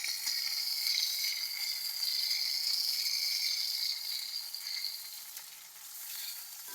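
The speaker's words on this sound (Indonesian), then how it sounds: "Ya, kita aduk supaya rata, supaya matang." Sambal pete frying and being stirred in a pan, a close, steady bright sizzle running throughout and easing slightly toward the end.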